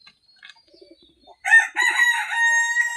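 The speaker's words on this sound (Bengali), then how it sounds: "এটা মোরগ, দেশি মোরগ।" A desi rooster on a home poultry farm gives soft clucks, then breaks into a loud, close crow that rings on for over a second.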